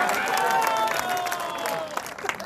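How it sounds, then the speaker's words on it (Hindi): A crowd at a political rally in Bengal claps in welcome for a Purulia MP, a loud burst of applause with some cheering and a few voices in the mix over a couple of seconds. "ज्योतिर्मय सिंह के लिए जरा जोरदार तालियां बजाकर स्वागत करें"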